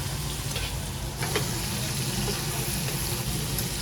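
Potatoes fry in a hot pan in a busy restaurant kitchen that serves grilled beef tripe, giving a steady, close sizzle with faint stirring clatter throughout.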